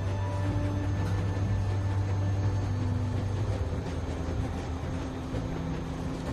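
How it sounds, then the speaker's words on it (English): A train rolls along in The Walking Dead video game, a low, steady rumble and hum that carries on without a break and with no voices. "You need to stop the train."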